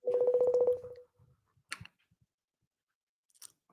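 A quick run of telephone keypad dialing tones opens, clear and close, followed by a few faint clicks and a brief rustle as someone places a call.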